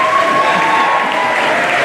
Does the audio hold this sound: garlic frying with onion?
no